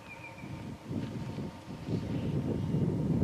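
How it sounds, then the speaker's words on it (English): A slight breeze blows across an outdoor African bush setting, producing soft gusty rumbling wind noise that swells and rises gradually over a few seconds. "Slight bit of a breeze blowing."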